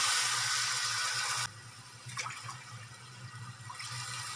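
Two glasses of water poured into a pot of masala for an egg vegetable biryani, a steady rushing pour that stops abruptly, followed by quieter splashes and bubbling.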